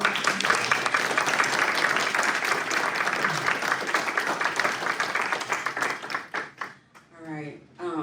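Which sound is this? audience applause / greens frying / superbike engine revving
audience applause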